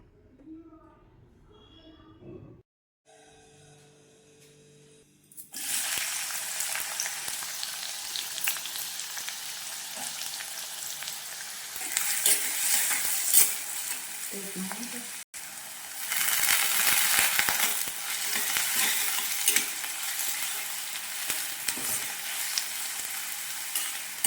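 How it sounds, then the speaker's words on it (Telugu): Onion and green chilies fry in a pan with a steady loud sizzle, stirred now and then, after a quiet start with a brief clatter. "ఇవి బాగా ఫ్రై చేసుకోవాలి"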